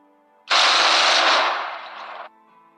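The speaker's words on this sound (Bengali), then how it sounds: "ঠিক সেই সময় বাইরে কোথাও বন্দুকের গুলির শব্দ হলো।" A single loud, sharp gunshot-style blast that bursts in and trails off in a noisy rumble over about two seconds, alone against a quiet background.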